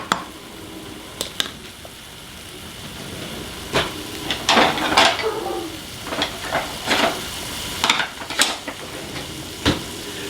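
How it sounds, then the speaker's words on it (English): Bacon frying in a pan while a wooden spoon breaks it up, with scattered scraping and clacking strokes over a steady low sizzle, the stirring busiest in the middle stretch. "with this bacon, wooden spoon works best. You just want to kind of break it up and let it start cooking."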